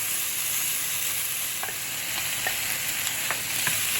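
Shrimp being stirred into udon in a frying pan crackles with a steady, close sizzle, with faint scraping taps of a utensil against the pan.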